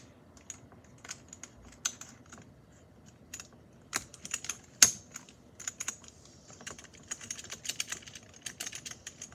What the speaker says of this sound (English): It's a Skytech gaming PC and a Skytech gaming keyboard.